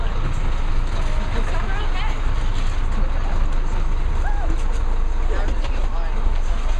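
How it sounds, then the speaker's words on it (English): A large tour bus idles on a school trip in Peru with a loud, steady engine rumble and hum, while people chatter over it throughout. "We're gonna go on this big bus."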